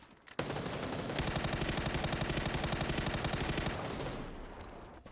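An M4 assault rifle fires one sustained full-auto burst of around two and a half seconds in a battle royale shooter on console, a rapid, steady rattle of loud gunshots that ends with a short ringing tail.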